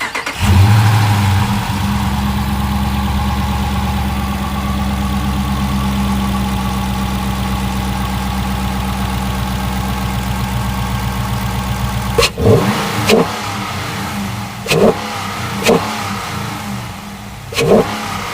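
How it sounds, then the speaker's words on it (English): A Dodge Challenger R/T with a JLT cold air intake fires up from cold, a deep loud rumble settling into a steady high idle, then sharp throttle blips punctuate the last several seconds. "I guess I should give you guys a cold start."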